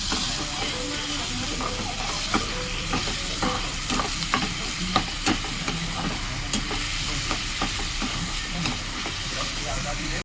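Onion with salt and turmeric sautés in oil, giving a loud, continuous hissing sizzle throughout, dotted with small crackles and pops close up.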